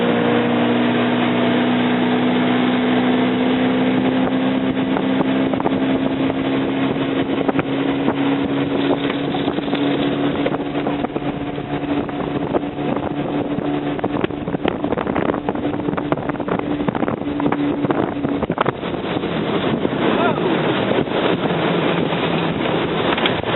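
Two-stroke boat engine running hard on a river in a canyon, a loud steady drone with a constant pitch that holds for the whole stretch, buffeted by heavy wind noise on the microphone.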